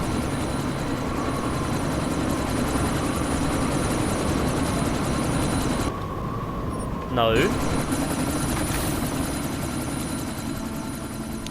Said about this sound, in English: to disable that chopper.